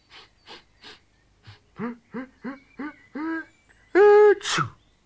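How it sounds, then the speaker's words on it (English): Repeated sharp sniffs and gasping breaths build into a loud, strained sneeze-like burst near the end, close and alone, from a cartoon character sniffing hot, spicy curry. "I shouldn't be sniffing that"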